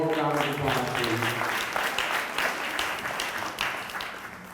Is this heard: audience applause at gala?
yes